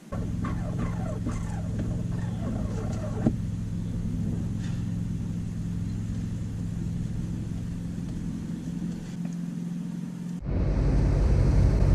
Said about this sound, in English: the next door neighbor is mowing his lawn